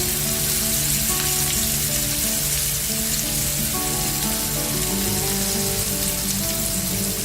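Shallots and curry leaves crackle loudly in hot oil, a dense, continuous, close frying hiss that sounds almost like heavy rain, with no pauses.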